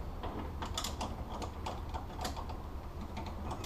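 A crescent wrench works on an energy suspension end link bolt on the front suspension of a 240z, close, quick ratcheting clicks and metallic ticks over a steady background rumble, no talking.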